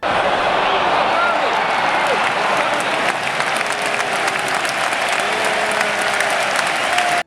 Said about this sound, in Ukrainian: отримав ще одну велику порцію аплодисментів